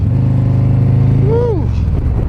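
Motorcycle engine droning steadily and close during a ride, with a low rumbling note that holds, then a brief rising and falling pitch sweep near the end.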